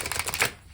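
A brief, rapid flutter of cards riffling together, close and crisp, lasting under a second.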